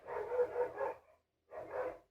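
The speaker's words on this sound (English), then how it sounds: "Yeah, it's the fucking neighbor's dog." A neighbor's dog barks in two bursts, a run of several close, moderately loud barks followed by a pause and a shorter second burst, heard alone without talk.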